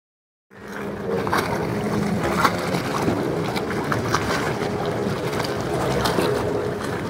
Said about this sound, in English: All right guys, so it's a little windy, so I wanna make this quick.